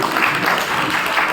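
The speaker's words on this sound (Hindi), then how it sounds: "तालियां आप सबकी।" Audience applause at a Brahma Kumaris talk in Shahabad Markanda, a steady loud wash of many hands clapping at once, close and continuous throughout.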